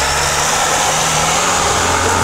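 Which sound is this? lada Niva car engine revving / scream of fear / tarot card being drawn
lada Niva car engine revving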